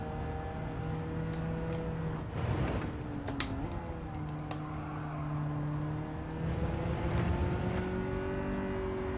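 Race car engine in Gran Turismo 7 at Road Atlanta, a steady droning note that rises and shifts pitch through gear changes, continuous and moderately loud with no talking.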